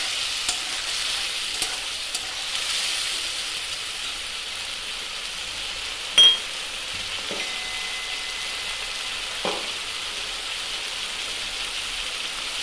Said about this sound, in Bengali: এটাকে একটু ভালো করে কষিয়ে নেব, আদার গন্ধটা চলে যাওয়া পর্যন্ত।